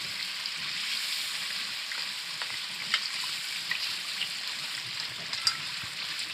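Saag being mixed in a hot pan: a continuous broad frying hiss with soft, scattered stirring scrapes and occasional small clicks, steady and moderately quiet throughout, no voices.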